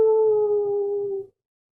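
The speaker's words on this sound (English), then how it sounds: "Is that wolf or werewolf?" A single long wolf howl during a Curse of Strahd tabletop game, one sustained falling tone that cuts off abruptly into silence.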